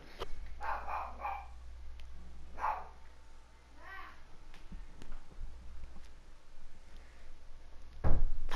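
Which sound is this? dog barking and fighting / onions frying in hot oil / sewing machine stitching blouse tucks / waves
dog barking and fighting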